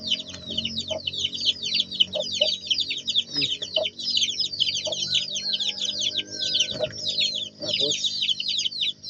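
A chicken being held by hand clucks in short, low calls under a constant, dense chorus of high peeping nearby.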